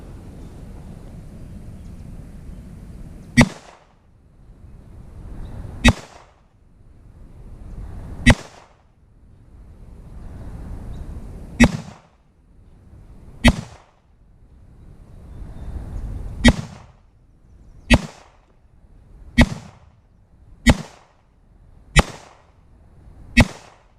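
Springfield Armory XD .40 caliber pistol firing at a target: about eleven sharp, loud single shots, spaced a few seconds apart at first and coming faster toward the end, with quiet range ambience between them.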